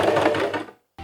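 A sewing machine stitches a jeans hem with a brief, steady, close mechanical whir. It stops abruptly, then starts again after a short gap.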